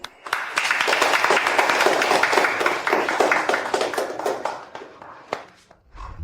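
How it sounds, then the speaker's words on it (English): Office staff clap to welcome a new female employee to their department, a dense burst of applause that starts loud and steady, then thins into scattered claps and fades out near the end. "Welcome with applause"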